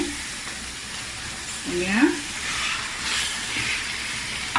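Chicken pieces go into hot oil while cooking ayam masak merah, giving a rising sizzle and crackle around the middle that settles into a steady frying hiss, close and moderately loud.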